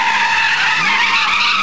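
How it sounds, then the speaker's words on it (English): A car drifts sideways on pavement, its tires skidding in a loud, sustained squeal that bends in pitch, close by and heard alone. "Getting sideways is a technical racing maneuver, actually."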